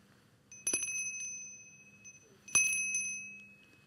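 A Salvation Army charity kettle hand bell, rung at year's end where crowds gather, strikes twice in a quiet space, each bright metallic ring sustaining a clear tone before fading.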